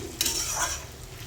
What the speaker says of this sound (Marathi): आता कांदा पण चांगला याच्यात तळून घ्यायचा आहे.